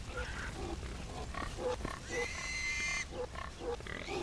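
Pigs in the video game Far Cry 4 grunt repeatedly at a slaughterhouse, a steady run of short low snorts with a brief squeal partway through.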